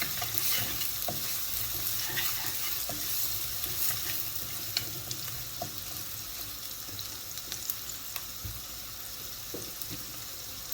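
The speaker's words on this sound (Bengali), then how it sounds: "পেঁয়াজটাকে নড়াচড়া করিয়ে নেব" Onions with salt being stirred in a pan for chola pulao, a soft continuous sizzle with scattered scraping and clinking of the spoon, fairly quiet and steady.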